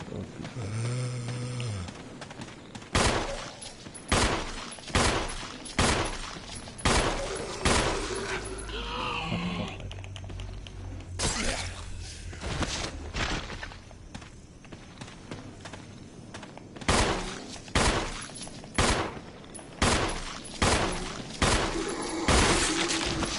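Handgun shots in the survival-horror game Resident Evil, set in a mansion, ring out as a long series of sharp, loud cracks. They come in irregular bursts and clusters over a steady game-music bed, with no talking.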